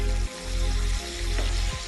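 Food frying in a pan with margarine gives a steady, close sizzle with faint crackles throughout, briefly dipping in intensity, with no voices.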